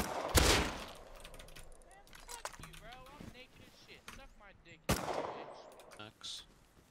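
AK rifle gunfire in a multiplayer shooter game, two sharp loud shots about four seconds apart standing over a busy background of game sounds and talking players.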